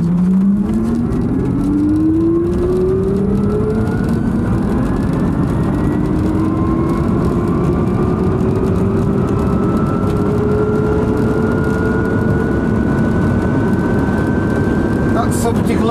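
An electric Fiat 500 accelerates hard from a standstill. Its motor whine climbs steadily in pitch over a constant rush of road and tyre noise, with no engine roar.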